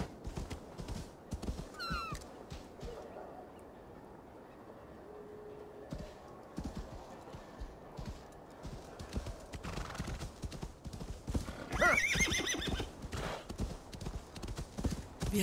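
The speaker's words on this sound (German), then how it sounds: "Okay, mein Pferd." Horse hooves clip-clop in Assassin's Creed Valhalla, a steady rhythmic patter under ambient game sound, with a horse whinny and brief bird-like calls mixed in and faint background noise.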